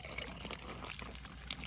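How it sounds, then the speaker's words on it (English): Water rushing through an opened valve into an Intex SX sand filter pump for an above-ground pool, a faint, steady, hissing trickle that runs the whole time with no talking. "And we're gonna open the valve here and let it fill up with water."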